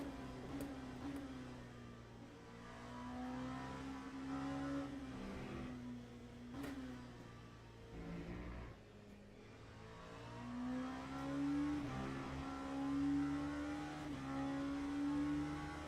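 Race car engines in the racing game Le Mans Ultimate at Silverstone drone and rev continuously, with rising and falling pitch as cars accelerate, loud and steady throughout with no voices.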